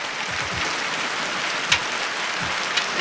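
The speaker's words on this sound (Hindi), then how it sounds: "बहुत ही खतरनाक बारिश आ गई है।" Heavy evening rain in Uttarakhand pours down in a steady, dense hiss with scattered louder drops and low splashes, continuous and close throughout with no talking.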